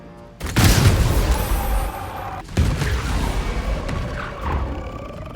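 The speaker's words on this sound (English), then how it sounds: "Throw a bomb at them and then finish off the wave using magic missiles." A booming in-game bomb blast from Baldur's Gate 3, a deep roaring explosion that hits hard, then a second impact follows with a rumbling tail under it, no voices.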